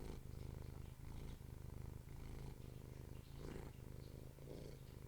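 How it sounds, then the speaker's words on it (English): A cat purrs steadily and close up, a continuous low rumbling with regular breathing pulses and brief pauses, heard alone without speech. "Cat purr ASMR."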